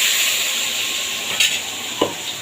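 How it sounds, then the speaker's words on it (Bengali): Eggplant coated in salt and turmeric fries lightly in hot oil, a continuous close hiss and sizzle with a couple of brief stirring clicks. "এখন ওই তেলেই আমি নুন হলুদ মাখানো বেগুনটাকে হালকা করে ভেজে নেব।"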